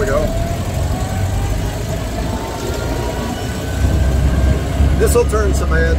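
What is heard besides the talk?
1931 Ford Model A Roadster driving and shifting gears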